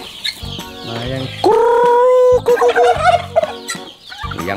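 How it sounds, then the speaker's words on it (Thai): Chickens cluck loudly and close by in a grassy spot where they are being fed rice, in several uneven bursts, with one longer drawn-out call in the middle. "หวานตรงนี้แหละตรงหญ้าเดี๋ยวไก่มองไม่เห็นครับ"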